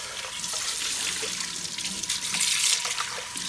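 Tap water runs steadily into a sink to rinse out the tank of a Bissell Crosswave multi-surface cleaner, a close, continuous splashing hiss with small shifts as the flow strikes the tank.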